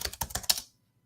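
Quick, light keystrokes on a computer keyboard as a short note is typed, about six close clicks in half a second before the sound falls silent.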